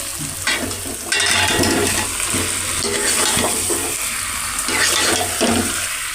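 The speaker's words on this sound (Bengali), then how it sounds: "ভালো করে মশলাটা মিক্স করে নাও" Potatoes are stirred into fried masala in a pan for aloo dum, with steady sizzling and repeated scraping strokes of a spoon against the pan, loud and close, and no talk.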